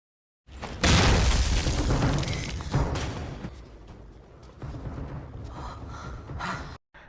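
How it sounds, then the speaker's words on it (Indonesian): A bomb blast blows open a large wall in a dramatic film scene. A sudden loud boom gives way to a long rumbling roar that slowly fades, then cuts off abruptly. "bom itu berhasil ditangkis dan tak sengaja meledakkan tembok besar di sana"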